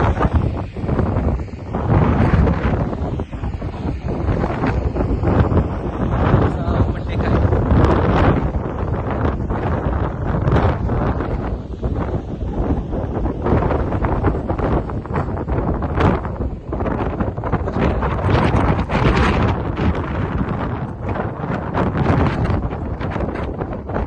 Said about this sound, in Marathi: चालणं सुद्धा अवघड वारा आहे